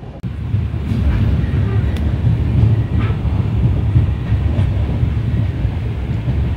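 A train journeying from Tirunelveli to Mettupalayam runs over a bus stand, giving a steady, close low rumble with wind buffeting across the microphone and faint rail rattles throughout.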